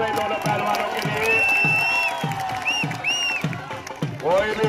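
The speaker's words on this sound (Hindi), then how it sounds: "तालियां बजाए भाई दोनों पहलवानों के लिए।" Crowd at a rural Indian wrestling dangal clapping and cheering for two wrestlers, loud close noise with shouts and whistles over rhythmic claps, mixed with an announcer's voice over a loudspeaker.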